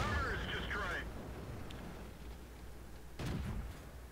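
A World of Tanks tank cannon fires once as a single heavy boom, fairly faint and set beneath a steady engine drone, with another dull burst shortly before.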